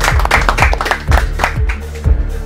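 An audience claps for a game show winner, a short burst of close, irregular hand claps from a few people that rises and falls over a couple of seconds.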